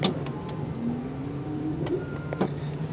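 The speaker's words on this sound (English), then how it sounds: "And then we'll put the plow up." Meyer snow plow raised by its hydraulic pump on a running truck, a steady low electric motor whine with a rising tone over engine idle, plus a few faint clicks.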